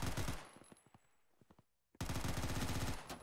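Rapid bursts of automatic gunfire in the Roblox-style military game BRM5 as enemy soldiers are shot, loud and dense, broken by a short lull with scattered single shots before a sustained fusillade resumes.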